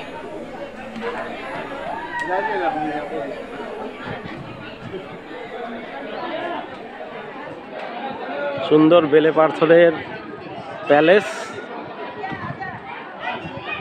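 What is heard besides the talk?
crowd chatter at Vijay Vilas Palace, Mandvi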